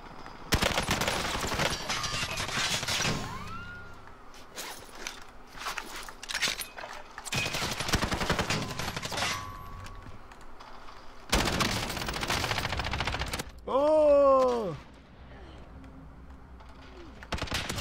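Bursts of gunfire in a shooter video game come in several loud clusters with short gaps between them, and a brief voice-like sweep is heard near the end.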